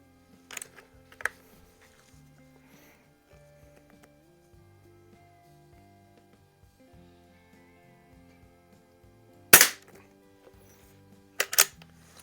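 A Tech Force TF-79 .22 CO2 target rifle, tested after repairs, fires a few sharp, close pops: two early, a long quiet stretch with a low steady hum, then a loud crack followed by a quicker pair.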